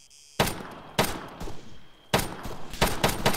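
Automatic gunfire crackles in Arma 3 Wasteland: several loud, close bursts of rapid shots separated by brief pauses, with no talking over them.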